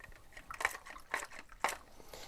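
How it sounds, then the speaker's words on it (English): Photographic film swished up and down in a water bath with wetting agent, giving three soft splashing swooshes at a steady rhythm, close and fairly quiet. "Swish the film up and down in it so it mixes all up in that water."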